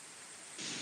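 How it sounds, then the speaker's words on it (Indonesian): Heavy rain pours down as a dense, steady hiss that suddenly swells louder and brighter partway through. "Hujan ageung."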